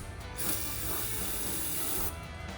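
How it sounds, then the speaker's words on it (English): A single hissing spray burst of starting fluid into a sunken dirt bike's engine, lasting about two seconds, close and fairly quiet, with brief mechanical clicks around it. "I'm just gonna spray starting fluid in there"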